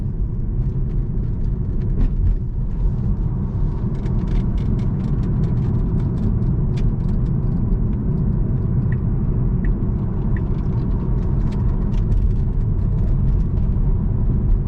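A Tesla on ordinary UK roads rolls through a roundabout, giving a steady low cabin rumble of tyres and road noise with faint ticking and soft clicks inside the car.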